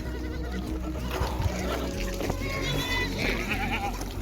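Goats bleat in Saudi Arabia while grazing with a herder, high wavering calls scattered over steady broadband outdoor noise, with someone talking alongside.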